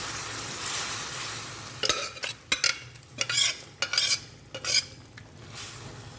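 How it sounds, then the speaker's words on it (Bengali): Soybean dal goes into a pan of browned spices with a soft sizzle. A series of scraping, stirring strokes follows, close and fairly quiet against a steady frying hiss. "এবার আমি এই ডালটা এর মধ্যে ঢেলে দেবো।"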